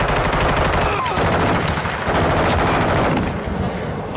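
Video game gunfire from a sniper rifle, loud, dense and continuous, with sharp shot transients over a thick wash of battle noise and faint voices underneath.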